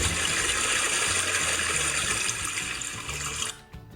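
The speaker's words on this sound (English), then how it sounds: "quickly flushed it down the loo" A toilet flushing down the loo, a loud continuous rushing gush of water that fills most of the clip, then cuts off abruptly near the end leaving a faint trickle.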